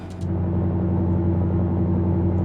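A loud, steady Scania V8 truck engine with open exhaust rumbles with a deep, even hum in Euro Truck Simulator 2, like a heavy truck idling or cruising, with no voices.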